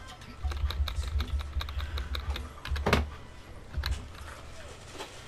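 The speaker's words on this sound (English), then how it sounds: "Alright, keyboard and the mouse. I brought the keyboard and the mouse out for this one." Computer keyboard typing, close and clear, with rapid irregular key clicks in bursts and a few louder strokes over a low background rumble.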